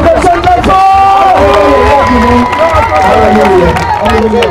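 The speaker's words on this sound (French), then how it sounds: "Applaudissons très fort pour le Seigneur." A church congregation in Cameroon applauds loudly during a lively worship service, with clapping and cheering blended into a dense crowd roar and voices throughout.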